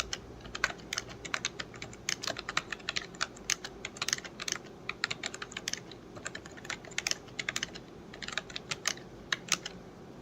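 Computer keyboard typing during an online typing test: rapid irregular bursts of crisp key clicks, close and fairly quiet, with brief pauses between runs of keystrokes.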